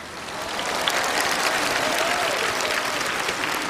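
An audience at a live Vietnamese music show applauds steadily, with dense, loud clapping from a large crowd that swells in and holds throughout.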